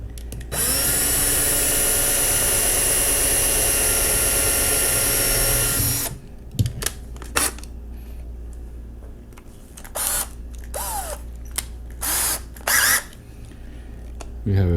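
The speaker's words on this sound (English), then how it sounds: "we're gonna start by drilling the posts." Power drill with a small bit boring into posts for a simple off-road lift, a loud steady whine running for about six seconds before cutting off, followed by quieter scattered clicks and handling sounds.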